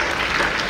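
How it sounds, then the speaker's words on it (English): At a school inauguration ceremony in Chennai, an audience breaks into a short, steady wash of applause, many hands clapping at once at moderate volume. "you deserve a big round of applause"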